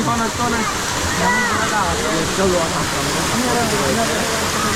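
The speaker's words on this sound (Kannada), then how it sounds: "so ನೋಡ್ತಿದ್ದೀರಲ್ಲ ಅಪ್ಸರಕುಂಡ falls" Apsarakonda waterfall near Honnavar in Uttara Kannada roars as a loud, continuous rush of falling water, close and steady, with people speaking over it.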